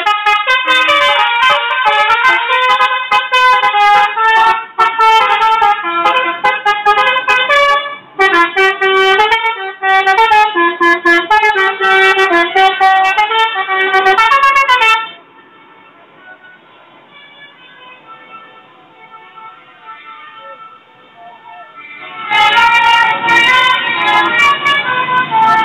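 Telolet horns of three Fajar Riau buses pulling out of a bus terminal: loud, close, rapid musical horn melodies blaring repeatedly, a quieter lull with faint background noise, then the horns return forcefully.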